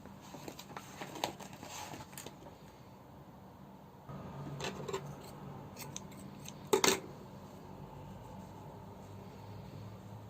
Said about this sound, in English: Chain one and cut our yarn